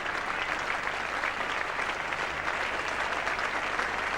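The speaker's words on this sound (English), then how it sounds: "getting applause from the fairly meagre crowd here today" A sparse crowd at a 1975 Ashes Test cricket match gives a sustained round of applause, a steady even patter of clapping heard from a distance with no commentary over it.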